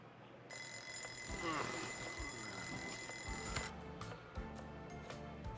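An alarm clock rings in the video game Lost Judgment, a steady high electronic ringing held for about three seconds before it cuts off. Game ambience and a few clicks continue underneath.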